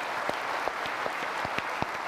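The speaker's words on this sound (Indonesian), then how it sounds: "Itu tepuk tangan dulu mahasiswa ini." Students in a TV studio audience clapping, a light, sparse patter of hands with a few sharper individual claps standing out, fairly distant and without voices.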